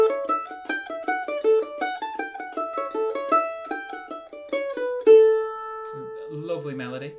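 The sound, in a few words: mandolin playing first phrase of Fisher's Hornpipe B part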